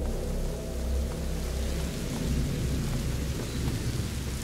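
Thunder rumbles through steady rain in the video game A Plague Tale: Innocence, a continuous loud storm wash with low rolling booms and brief cracks of lightning throughout.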